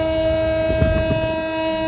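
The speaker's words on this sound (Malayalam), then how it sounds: "ചെറിയ ട്രെയിനാണ് കേട്ടോ ആ തിരക്കൊന്നുമില്ല" A small, slow passenger train runs in Mozambique, giving a steady, continuous droning rumble with a faint, irregular clatter throughout, close and fairly loud with no voices.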